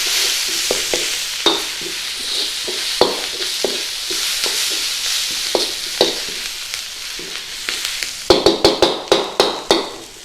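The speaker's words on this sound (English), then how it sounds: "give that a good stir in there" Spices, turmeric, dried methi and coriander powder, being stirred into bhindi masala in a hot pan, with a steady sizzle under repeated scraping and tapping of a spoon that grow quicker and louder near the end.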